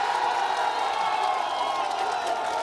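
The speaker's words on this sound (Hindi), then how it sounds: "तालियों के साथ स्वागत कीजिए।" A crowd at a Bihar 2020 election campaign event cheers and applauds to welcome a candidate from Mahua, a dense, steady roar of voices and clapping that holds at one loud level throughout.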